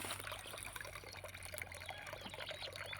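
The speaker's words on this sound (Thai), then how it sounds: "น้ำไหลออก" Water flows steadily out of a grassy rural canal, a continuous faint trickling and pouring sound under a low background hum, with no talking.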